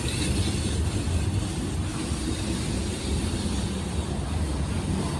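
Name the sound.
Norfolk Southern freight train rolling through the Old Fort loops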